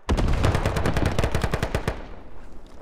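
Squad military shooter gunfire: a rapid burst of about twenty machine gun shots rattles loud and close for nearly two seconds, then cuts off and leaves a fading echo.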